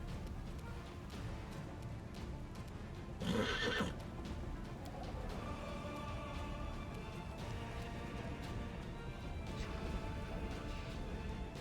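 A horse neighs loudly in Pathfinder: Wrath of the Righteous, one clear whinny rising out of a steady bed of battle noise and clip-clopping hooves, with no talk over it.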